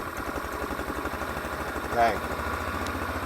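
A Taotao 150cc ATV engine runs at a steady, pulsing idle close by, with one brief word spoken over it.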